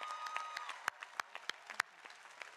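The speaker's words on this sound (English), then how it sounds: "Let's give them a nice round of applause" Commencement crowd applauding parents and supporters, a thin, distant patter of scattered claps with a few sharper nearby hand claps standing out, fairly quiet overall.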